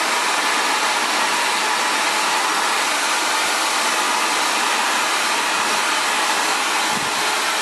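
Steady, loud blowing roar of an Xtava Allure ionic ceramic hair dryer aimed at curly hair, unbroken and close for the whole stretch with no speech.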